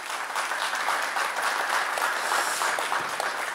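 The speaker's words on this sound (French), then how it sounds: "On l'applaudit s'il vous plaît" A studio audience applauds the featured host of a television variety show, a sustained, even patter of many hands clapping at close range without speech.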